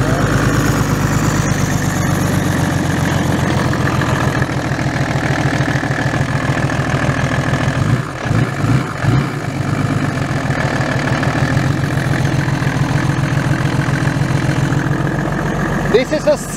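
Mercedes OM606 diesel engine with a DPUK manifold, BorgWarner turbo and 7.5 mm RS203 pump idling: a loud, steady, rough diesel clatter that runs continuously with a brief dip partway through.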